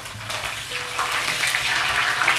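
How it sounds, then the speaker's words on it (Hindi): Curry leaves being dropped into hot oil for tempering while making chivda, giving a loud, close, continuous sizzle and crackle with no talking. "पत्ता में जो है बघार के लिए करी पत्ता भी वो डाल रहा हूँ"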